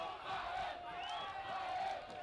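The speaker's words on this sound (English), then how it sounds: "it has set the PE crowd into an uproar" Schoolboy rugby crowd in Zimbabwe roaring in a steady, continuous uproar of massed shouting and chanting voices, loud and sustained throughout.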